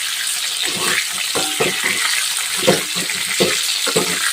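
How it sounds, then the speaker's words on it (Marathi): Bitter gourd frying in hot oil gives a steady close sizzle, with irregular stirring scrapes and clatters breaking through it, and no voices. "असं असं नॉर्मल दोन ते तीन मिनटं तेलामध्ये छान फ्राय करून घ्यायचे व्यवस्थित"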